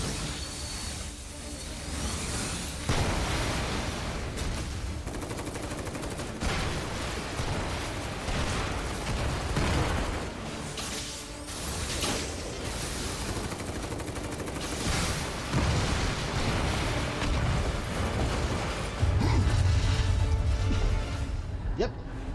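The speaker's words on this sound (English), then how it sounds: "That is a huge explosion" A huge bomb explosion in the Final Fantasy 7 Remake video game, a loud, dense roar with crackling bursts that runs without a break, while a voice talks over it.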